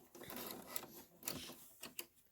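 An embroidery sewing machine stitches a Kimberbell pickup truck design, giving a quiet mechanical whirring hum with short rhythmic clicks and thumps over a couple of seconds, no talking.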